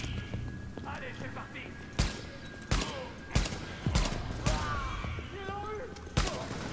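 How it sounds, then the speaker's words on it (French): Gunfire from the shooter game The Division, several sharp separate shots spaced about a second apart over steady game ambience, with quiet voices murmuring underneath. "je lui vide mon chargeur pour l'éclater"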